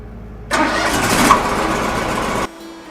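Engine on a Wood-Mizer sawmill cranking and catching, then running loud and steady for about two seconds before cutting off abruptly.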